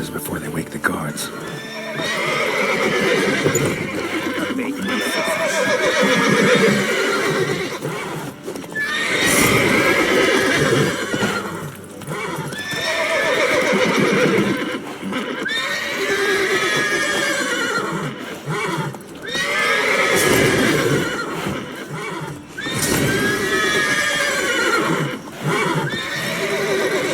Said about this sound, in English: Gotta calm down the horses before they wake the guards.